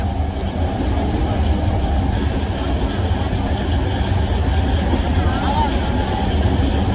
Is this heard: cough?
no